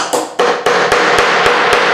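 Nails hammered into a wooden sculpture base to fasten a wire armature: a steady run of sharp, close metallic strikes about every quarter second, loud and alone without talk.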